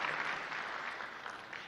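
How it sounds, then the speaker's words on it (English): Audience applause at a public political gathering in Eldoret, a steady wash of clapping from a crowd that holds evenly through the short stretch at moderate, somewhat distant level. "Let's give him a proper clap for that."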